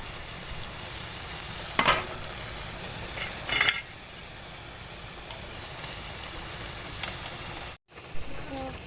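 Taro root (arvi) fries in ghee with a faint, steady sizzle, with two brief clattering stirs along the way.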